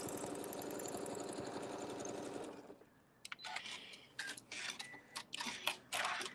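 A sewing machine runs steadily while quilting a fabric table topper, a continuous mechanical whir for about two and a half seconds that stops, followed by scattered clicks and small handling noises.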